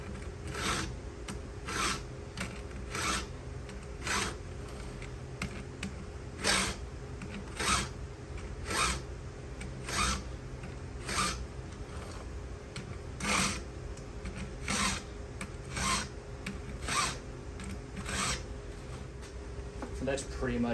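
Steady rasping file strokes repeat in an even rhythm, close by, hand-sharpening a chainsaw chain, scraping metal over and over with a faint background hum.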